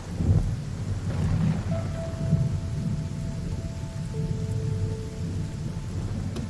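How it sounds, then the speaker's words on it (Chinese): Steady heavy rain pours down with low rolling thunder rumbling underneath throughout, with no voices. "外边雨下的挺大的"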